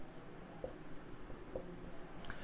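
Writing on a board during a lecture on Michaelis-Menten enzyme kinetics, soft faint strokes and brief squeaks spaced apart under a quiet room background.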